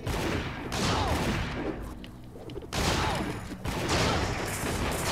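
A double blast gun fires in the video game Secret Ponchos, heavy booming gunfire in dense, loud bursts with a brief lull between volleys, close and dominant.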